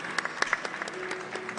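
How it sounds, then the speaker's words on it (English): Brief applause rises from an awards ceremony audience at the My Data Is Mine Award 2023, with a few sharp individual claps standing out from the crowd, while voices murmur faintly underneath. "please welcome on stage and tribute a big applause to"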